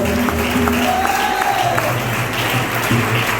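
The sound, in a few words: audience applause in church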